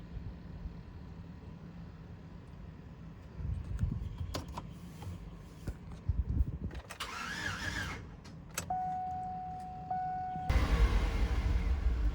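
Chevrolet Suburban whose loose battery was just tightened, with clicks and a whining starter crank followed by the engine catching and settling into a rough, louder running rumble at the end.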